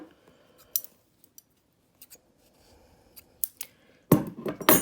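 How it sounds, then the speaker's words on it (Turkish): Scissors snip crochet yarn on a Hello Kitty phone bag, a few small sharp clicks spread across quiet handling, then a cluster of louder close cuts and rustles at the end. "Kesiyorum bu şekilde"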